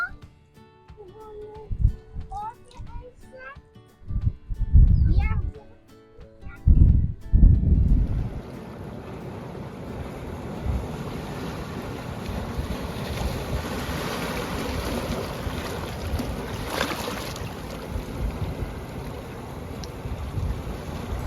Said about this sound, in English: Just sitting here, listening to the waves.